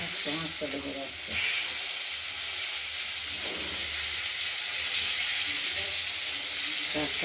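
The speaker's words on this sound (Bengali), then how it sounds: "মাছগুলো ভাজা চলছে" Katla fish pieces fry in oil with a constant, even hiss and sizzle close by, and brief faint voices and small clatters appear at a few points.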